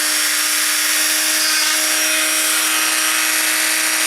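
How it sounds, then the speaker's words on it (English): A power drill spins into a glass doll eye, giving a loud, continuous high whine with a steady grinding hiss that holds unbroken throughout. "I'm going to kind of turn my drill to the side so that you can see"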